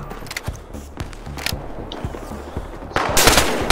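An inaccurate gun in Battlefield Hardline multiplayer fires rapid bursts of sharp shots, with a denser, louder volley of gunfire toward the end.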